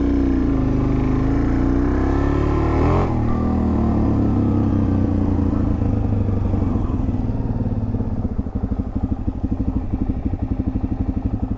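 Suzuki DRZ400 dirt bike being ridden, its single-cylinder engine rumbling loud and near, with a rev rise early on that settles into a steady chugging, pulsing idle-like beat toward the end.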